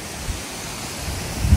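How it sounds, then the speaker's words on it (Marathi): A natural waterfall roaring steadily, a broad continuous rush of falling water with faint low rumbles and brief bumps, fairly close and without talk. "natural waterfall"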